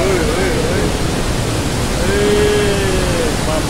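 Floodwater from an overflowing river rushes through a flooded town, a loud, dense, unbroken roar of water, with faint whistling tones riding on top.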